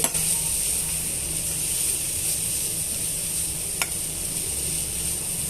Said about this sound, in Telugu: ఇవన్నీ కూడా బాగా మిక్స్ చేసుకొని వేయించేసుకోవాలండి